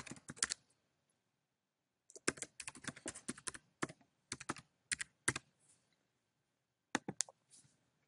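Keystrokes on a computer keyboard while logging into an iCloud account, coming in close, quiet bursts of rapid clicks separated by short pauses, with no talking.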